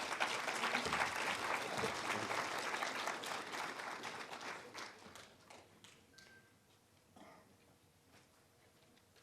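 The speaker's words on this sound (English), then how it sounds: "Ladies and gentlemen, I think the ambassador deserves a better round of applause" A crowd at a Namibian solidarity gathering for Cuba claps for the ambassador, with broad sustained applause that gradually thins out and fades over several seconds.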